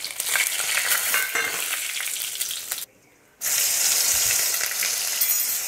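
Cumin seeds, bay leaves, star anise and a small piece of cinnamon frying in hot oil for a chicken dish, producing a loud, close, bright sizzle that cuts out for a moment midway, then resumes just as strongly.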